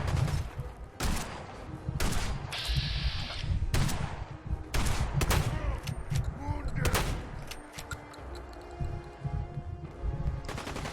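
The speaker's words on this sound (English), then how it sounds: "Hey, I just shot him in the head" Gunfire in the video game Fallout 4, a rapid string of sharp, close shots in uneven bursts and single cracks over a busy game background.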